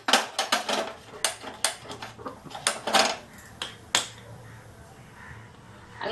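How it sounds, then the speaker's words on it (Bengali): A kitchen gas stove being switched on: a quick series of sharp, close igniter clicks, about a dozen in the first four seconds, then quiet. "আমি এবার গ্যাসটা অন করবো"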